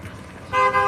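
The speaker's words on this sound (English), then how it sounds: "I wonder if that's fucking fans honking her" A car horn sounds from outside, a steady toot that starts halfway through and holds, with a brief dip before continuing, loud over a low traffic rumble.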